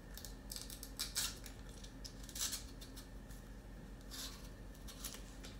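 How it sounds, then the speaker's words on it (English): Vegetable peeler scraping the skin off a butternut squash, a series of quiet, short rasping strokes repeating at an uneven pace in a kitchen, with no talking. "I just get a vegetable peeler and I just start peeling"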